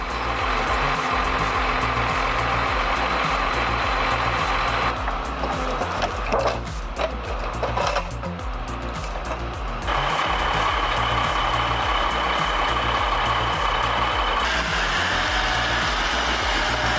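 Belarus MTZ 122 tractor engine running nearby, a loud steady diesel rumble with rhythmic low throb, briefly dipping and shifting in tone midway before resuming its continuous drone.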